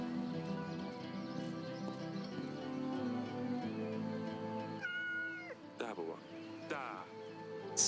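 A cat meows in the video game Yes, Your Grace, with short mews standing out near the end over a quiet in-game music bed while a person talks.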